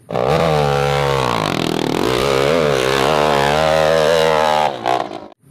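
Toy motocross motorcycle producing a loud, continuous electronic engine-rev sound with rising and falling pitch, close and alone, cutting off abruptly near the end.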